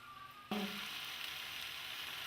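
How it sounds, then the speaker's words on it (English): After a sharp onset, green beans with chili and anchovies stir-fry in a pan, making a steady, fairly quiet sizzle with no voices. "we add the anchovy, we stir and then finish"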